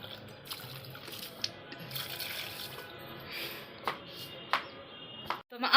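Water is poured onto potted plants on a rooftop, a soft steady trickle and splash with a few sharper drips and clinks, fairly quiet throughout and ending in a brief louder splash.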